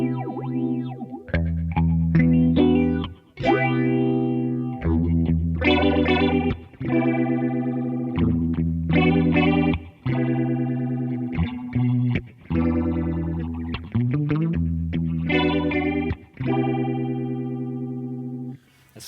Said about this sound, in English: that's the most phasery phaser you'll hear